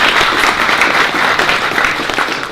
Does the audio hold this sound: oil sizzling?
no